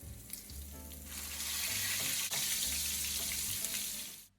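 Breaded pork chops fry in hot oil, a steady broadband sizzle swelling and holding loud for a few seconds before cutting off, with no talking.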